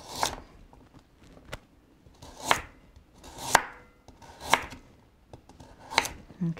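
A knife chops celery and carrot on a board, six or seven distinct thuds at uneven intervals about a second apart, close and clear in a quiet room.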